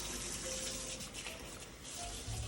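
Hot water runs steadily from a tap in a continuous, close, fairly loud rush with no break, and no voices over it.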